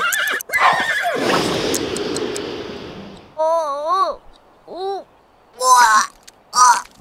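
Horse in The Sims 3 gives a long, loud whinny, followed by several shorter nickers and snorts in separate bursts.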